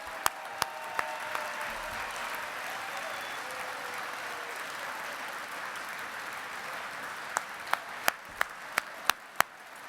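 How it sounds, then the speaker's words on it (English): A broad wash of crowd applause at a football awards ceremony fills the space steadily, with a few sharp isolated claps or knocks standing out near the start and in a quick cluster at the end. "give them a massive round of applause."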